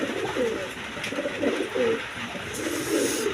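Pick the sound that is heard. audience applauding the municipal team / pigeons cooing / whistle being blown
pigeons cooing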